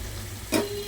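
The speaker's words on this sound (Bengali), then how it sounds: "চিকেনটাকে ভালো করে 2 মিনিট মতো নেড়ে চেড়ে" Chicken for a mint chicken curry sizzles in a pan, faint frying crackle in the background, with one brief, sharp burst as the pieces are stirred.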